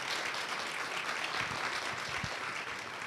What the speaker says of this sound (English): can we have a round of applause for Sadeqa and Jo?